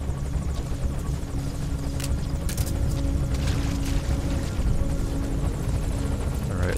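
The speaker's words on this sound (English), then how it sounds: "looks like the helicopter has moved into a holding pattern here" A helicopter hovers in Metal Gear Solid 5: The Phantom Pain with a steady, droning rotor whine, constant and fairly loud, with faint background noises but no clear talk.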